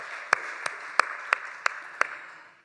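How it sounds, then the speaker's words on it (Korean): A church congregation at a worship service claps together in unison, six sharp, evenly spaced claps over a soft, roomy background. "우리 하나님께 감사와 찬송의 박수 한번 드리도록 하겠습니다."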